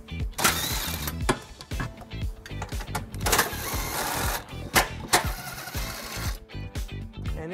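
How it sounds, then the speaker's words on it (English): A 12 millimeter socket on a ratchet removing bolts from a 2000 Infiniti QX4 during a trailer hitch install, rapid mechanical ratcheting clicks and metallic clanks in irregular bursts, close and busy. "it is held in by these three bolts, and we're gonna remove those using a 12 millimeter socket."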